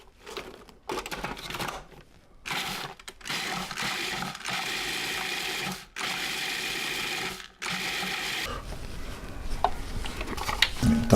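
A food processor pulses dirt cake ingredients in a series of loud whirring bursts of a few seconds each, separated by short pauses, with rattling and clatter toward the end.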